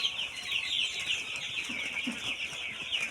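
Ten-day-old broiler chicks, about 1200 of them, on a farm in cold weather make a steady high-pitched cheeping chorus, fairly quiet and continuous, with a few soft lower clucks and no talking.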